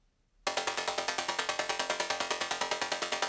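A bright, buzzy synthesizer chord pulses in a fast, even rhythm after a short silence, filling the range with sustained tone.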